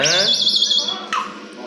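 A myna bird calls nearby with a bright, warbling whistle followed by a short, sharp chirp, while a voice murmurs in the background.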